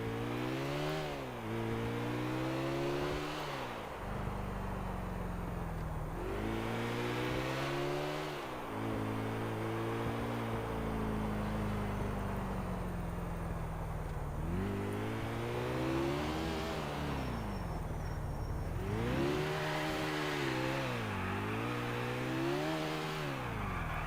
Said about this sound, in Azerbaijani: Maşın niyə fırlanır da yerində?